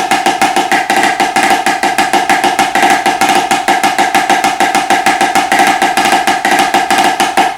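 Fast, even drum strokes in a continuous triplet diddle pattern, loud and close, with a bright ringing tone on each rapid hit and no pauses.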